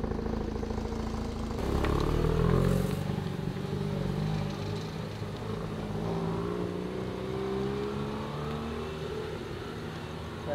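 A Mazda RX-8 with a rotary engine drives around the block, its revs rising to a loud peak early on before settling back into a steady, moderate engine drone as it moves off.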